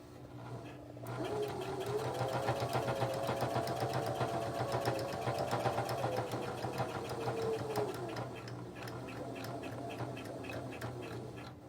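A sewing machine stitches fabric for a charm-square fabric tray in a steady, continuous mechanical whir with a fast rhythmic needle chatter, close and fairly loud, running almost the whole time without talk.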